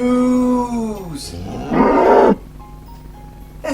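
Cartoon cows mooing in a farm quiz room, a long low moo gliding downward followed by a louder, rougher bellow, with buzzing mixed in and other animal sounds around.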